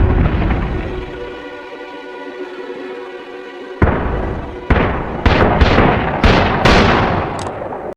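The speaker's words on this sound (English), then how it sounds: "Boss charges at the jailhouse while Charlie provides cover fire, and finally the evil man is shot dead" Gunshots ring out in a western film shootout at a jailhouse, a series of loud, sharp reports with echoing tails coming in quick succession after a sustained rumble, close and without speech.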